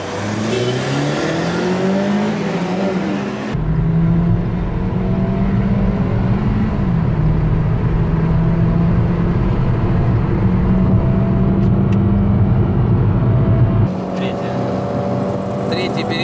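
A Lada Priora engine in stock form revs hard in third gear during a street race against a Kia Rio 1.6, a loud continuous strain with rising pitch, heard from inside the car with a brief shift dip partway through.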